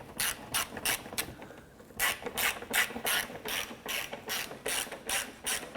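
A hand ratchet clicks in quick repeated bursts while knock sensor screws are driven into a 2006-2013 Chevrolet Impala engine, close and fairly quiet, with brief pauses between runs of strokes.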